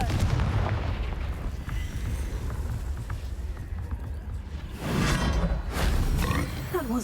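A Confringo fire spell blast in Hogwarts Legacy, a loud rumbling explosion with roaring burst and crackling debris, followed by a second strong burst near the end.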